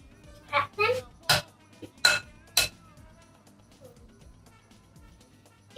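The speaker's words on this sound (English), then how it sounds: "You get some eggs, 2 eggs, and crack them." Two eggs cracked against a hard edge while mixing pancake batter: three sharp, clicky knocks close by, spaced about half a second apart, with a brief voice just before.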